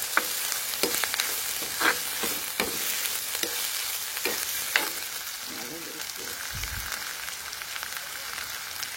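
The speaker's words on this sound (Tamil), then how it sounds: "கொஞ்சம் கருவேப்பிள்ளையும் போட்டுரும். நல்லா வதங்கட்டும்." Curry leaves frying in oil in a pan give a steady close sizzle, with intermittent scraping stirs from a spoon, no voices over it.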